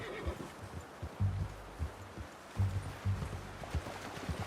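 Horse in the video game Red Dead Redemption 2 snorting and whinnying in short bursts, mixed with scattered clip-clop of hooves, fairly close, with no talking.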